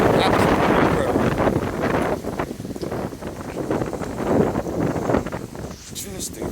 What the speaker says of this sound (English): I've never seen it this windy before in my life, ever.